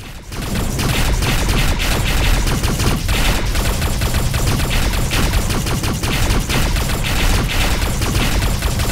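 Scatter turret in the space combat game Rebel Galaxy firing a dense, continuous barrage of rapid shots, loud and close, with a rumbling low end running through the whole stretch and no talk.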